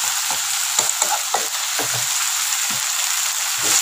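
Tomato, green chili and salt fry for a Kerala-style squid masala, giving a loud, continuous sizzle broken by several short scraping stirs of a spatula in the pan. No voices.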